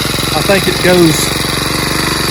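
A Craftsman C410 4-cycle 30cc garden tiller engine idles steadily at close range, a low even putter running under a man's speech throughout.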